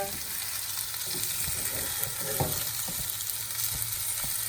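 Skillet potatoes seasoned with thyme and chili pepper sizzle steadily in a pan while being stirred, with scraping spoon strokes breaking through the continuous frying hiss, close and moderately loud.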